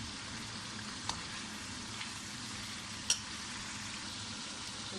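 Tomatoes fry in a pan with cumin, coriander and garam masala for a desi mutton dish, giving a steady, even sizzle throughout with a couple of faint utensil taps.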